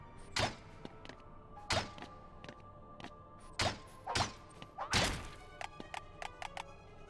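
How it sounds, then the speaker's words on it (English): Large wooden crates in the Kingdom Hearts video game are smashed with a series of sharp whacks and thuds, about six main hits spaced irregularly, each followed by a faint clatter of debris. "You can push large crates. What is pushing this crate gonna do? You can also smash them."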